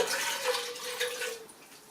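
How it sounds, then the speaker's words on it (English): Brewed tea for kombucha poured into a container, a short trickling, splashing stream with a faint ringing tone that fades out after about a second and a half. "we're just going to pour it all in there. Because this is tea."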